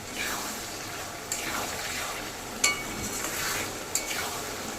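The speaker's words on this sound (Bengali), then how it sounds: "সব কিছু মশলা নেড়ে চেড়ে মিশিয়ে ভালো করে তেল ছাড়া পর্যন্ত সমস্ত উপকরণগুলো কষিয়ে নিতে হবে" Spices for ghugni fry in oil while a spoon stirs them, making a steady close hiss with repeated scraping sweeps and a few light metallic taps against the pan.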